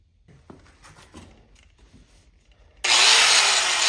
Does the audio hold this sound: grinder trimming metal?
yes